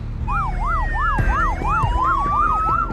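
An ambulance siren wails in a fast, repeating rise-and-fall pattern, loud and close, at a highway crash scene, with traffic rumbling underneath and no voices.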